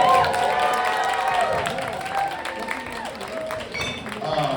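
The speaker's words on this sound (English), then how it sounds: "We should stop everything and thank with our uproarious applause, Prank Bar." A bar crowd at a poetry event in Los Angeles claps and cheers in a dense, continuous wash, with voices calling out and talking over the applause throughout.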